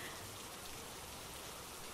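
Steady, dense rain hiss falling outdoors in the video game Phasmophobia, an even wash of patter with no voices, constant and moderately close throughout.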